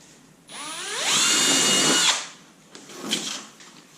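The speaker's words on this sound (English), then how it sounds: "I'm going to take a drill holes in each one of these dots" A power drill bores holes through a template piece, one loud whining burst that rises in pitch as the motor spins up, holds for about a second, then cuts off, followed by faint handling clatter.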